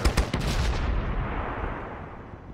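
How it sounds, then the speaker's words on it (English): Orbital bombardment in the strategy video game Pandora: First Contact, heard as a rapid volley of heavy booming blasts that fades into a long rumbling roar, loud and with no talking. "Drop the orbital bombardment, soften them up, get our tanks to roll in."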